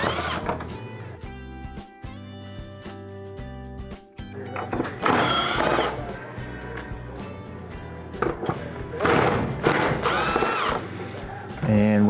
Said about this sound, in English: now we're going to go remove the 4 screws that hold the control in place